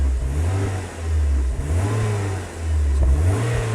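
A car engine, running again after being abandoned for 11 years over a breakdown, idles and revs with a rough, pulsing low rumble that swells and dips, close and loud.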